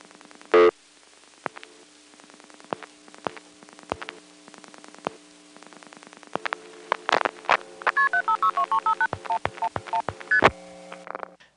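Pulse dialing of a telephone number into a 1974 NX1 crossbar exchange in Greenville, North Carolina: rapid runs of sharp clicks in bursts over a steady hum, with a loud click at the start and dense clicking trains later.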